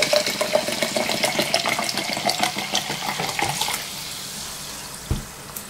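Water from a 500 ml bottle of Aqua mineral water pours steadily into a bowl for pancake batter, a continuous splashing that lasts several seconds before thinning out and stopping, with a small knock near the end.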